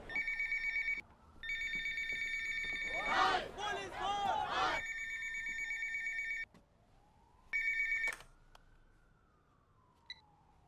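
A telephone rings on a call placed from a police scene, with long, loud electronic ringing tones broken by short gaps and a brief swell of voice or music in the middle.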